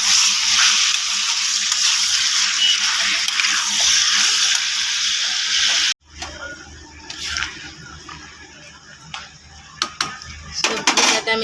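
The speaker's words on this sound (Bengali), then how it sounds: "সবজিটাতে আমি জল দিয়ে দিয়েছি" Water pours in a loud, steady rush into a pan of potato and fish curry for several seconds, then cuts off, followed by quieter utensil clinks and stirring.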